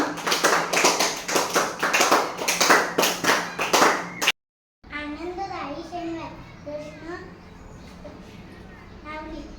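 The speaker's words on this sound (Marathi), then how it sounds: "टाळ्या वाजवा सगळेजण" Pupils at a Marathi primary school clap together in a steady, even rhythm of about a dozen loud claps. After a short pause someone speaks alone at close range.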